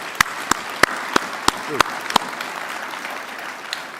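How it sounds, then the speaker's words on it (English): Audience applause for panelists at the close of a maritime security and alliances discussion, a steady clapping wash in the room, punctuated by several sharp louder claps near the microphone. "How about a nice round of applause for our panelists?"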